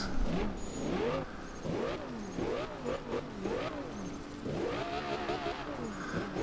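Engine and exhaust of a 2013 Audi R8 with a splitter and wing, in the Forza Horizon 2 racing game: repeated revving that rises and falls through several gear changes, loud and steady throughout, no speech.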